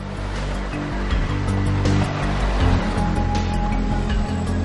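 Sea surf washing onto a beach along the Andalusian coast, a steady broadband roar of breaking waves with continuous loud wash and no voices.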